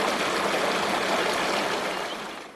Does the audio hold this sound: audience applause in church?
no